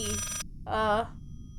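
An in-game telephone rings in the horror game Layers of Fear, two short close electronic bursts separated by a brief gap.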